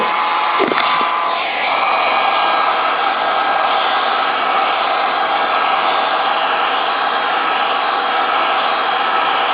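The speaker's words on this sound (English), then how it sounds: "When you're actually doing the full heat gun, you're going to want to do it for about 15 seconds on each side." A heat gun blows hard on a circuit board being reflowed, a loud, steady broadband hiss that holds unbroken throughout after a brief knock near the start.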